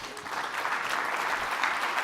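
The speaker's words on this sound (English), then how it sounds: "Everybody should give applause for that." Keynote audience at an education summit applauds in a continuous, moderately distant roar of many hands, filling the moment without speech.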